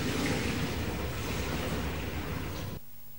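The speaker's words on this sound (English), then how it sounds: "Put water into the fresh water tank." Water rushes steadily into the fresh water tank of a Premium F2 spray extraction appliance, a close, loud, continuous splashing pour that stops abruptly near the end, with no talk.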